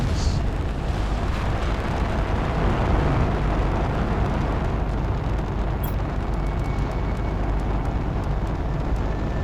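Rockets launching together from a launch pad in the survival game Planet Crafter, a continuous dense roaring rumble that stays loud and steady throughout with no talking.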